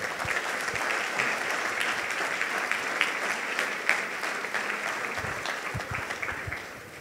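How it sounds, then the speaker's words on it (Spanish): A church congregation at a Sunday service breaks into sustained applause, a dense wash of clapping that holds steady for several seconds before easing off at the end. "denle un gran aplauso a nuestro Rey, por favor."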